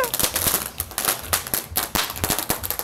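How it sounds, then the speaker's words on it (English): Fireworks crack in a rapid string of sharp bangs at a 4th of July celebration at the Stonewall. The loud, close reports come several times a second throughout. "This is Bradley setting off fireworks"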